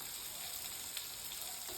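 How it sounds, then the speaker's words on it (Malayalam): Brinjal (eggplant) slices frying slowly in oil over a low flame give off a steady, close crackling sizzle with fine bubbling that holds evenly throughout, with no voices. "നമുക്ക് സിമ്മിൽ കിടന്ന് പതിയെ ഫ്രൈ ആയി വരട്ടെ."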